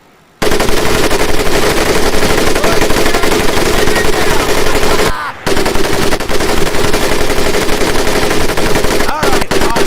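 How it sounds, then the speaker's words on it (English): An M1919A4 .30 caliber machine gun in a video game fires long, loud sustained bursts close up, with one brief pause midway and a short break near the end. "M1919A4 30 caliber machine gun"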